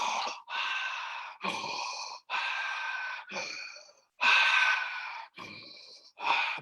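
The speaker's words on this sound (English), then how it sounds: "Breathing in, making the sound of the wind." A person breathes deeply in a guided somato-respiratory exercise, with a series of about seven long, loud breathy inhales and exhales that sound like rushing wind, separated by short silences.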